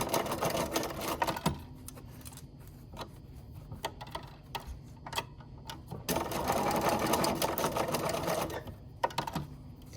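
Sewing machine stitching pieces of a Drunkards Path quilt block, close rapid mechanical whirring in bursts that pause and restart, with soft clicks between runs.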